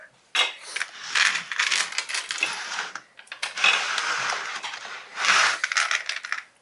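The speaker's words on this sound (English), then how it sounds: "You can take out the roof." A roof is pulled off a plastic Lego Duplo toy vending machine, giving a run of close ratcheting clicks and rattling plastic in several bursts with brief pauses, no voices.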